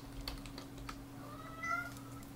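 A house cat meows a couple of times, faint and in the background, over keyboard typing and a steady electrical hum.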